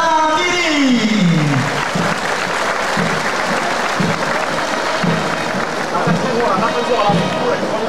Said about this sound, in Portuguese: Vamos aplaudir com uma salva de palmas o 6º Batalhão de Infantaria de Selva